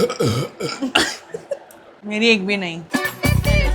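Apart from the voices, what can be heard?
burping after drinking cold drink, burp challenge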